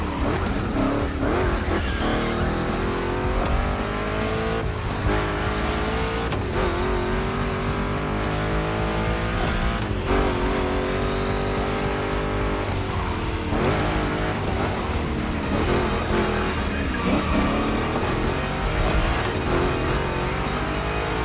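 Two Chevy big-block race cars roaring through a gymkhana course in a racing game, engines revving hard and rising in pitch with repeated tire squeals and skids, loud and continuous.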